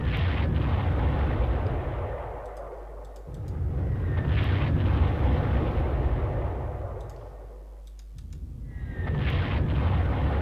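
Bombing fleet air strikes in the Panzer Corps strategy game over Dunkirk: heavy, rumbling explosions roll on continuously, swelling and fading in loud waves with brief lulls between salvos, no talk.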